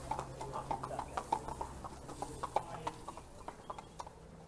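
Racehorses with a pins gelding in a lime jacket walk out for morning track work, their hooves clip-clopping in a steady, fairly close rhythm of repeated sharp knocks.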